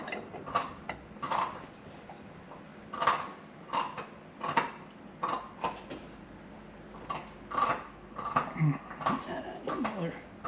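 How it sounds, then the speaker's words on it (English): A vise grip going onto a 1956 Coleman 220E lantern that looks fire-damaged, heard as a series of close metallic clicks and taps at an uneven pace with some low handling noise. "Another vice grip on there."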